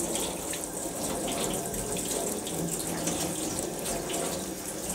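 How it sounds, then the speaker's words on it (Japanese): Pickled daikon radish is rinsed under a running kitchen tap, with a steady, loud rush of water splashing continuously into the sink throughout. "これまず水洗いします"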